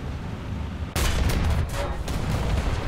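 A single sharp gunshot from a tank battle in War Thunder, with a loud burst followed by a sustained rumbling echo and a few further blasts across the rest of the clip.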